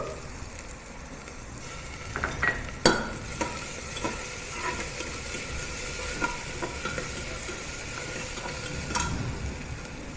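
Ginger and garlic fry in a pan with a steady sizzle, while a utensil stirs and scrapes with scattered clinks throughout. The sound is close and continuous, with no talk.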